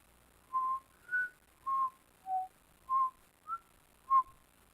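A person whistles a short tune of seven clear, separate notes at a slow, steady pace, close and moderately soft over a quiet background with no talking.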